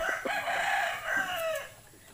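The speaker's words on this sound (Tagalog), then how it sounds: "Ayan yung manok" A native hen clucks and crows in a rural backyard in Bicol, one close, loud call lasting about two seconds with no talking.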